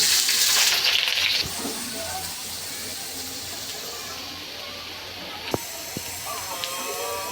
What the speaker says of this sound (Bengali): এই তেলের মধ্যে আর একটু তেল দিয়ে দিলাম পেঁয়াজ আর কাঁচামরিচ দিয়ে দিলাম